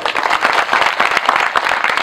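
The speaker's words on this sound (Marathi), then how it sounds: "21 टाळ्या वाजवा" A crowd applauding at a religious discourse (kirtan) gathering, dense steady clapping from many hands, loud and close, filling the whole moment.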